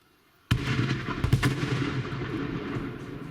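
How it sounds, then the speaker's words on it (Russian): An 82 mm Vasilek automatic mortar fires a salvo in the Pesky area during a ceasefire violation: a sudden loud blast opens a quick burst of booming reports that roll into a long, fading rumble, with no talk. "Первый залп Василька."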